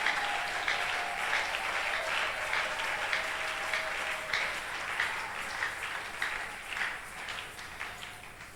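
A church congregation applauding to acclaim the Lord during a service; sustained, fairly dense clapping from many people, steady then slowly thinning toward the end, moderately loud with no speech over it.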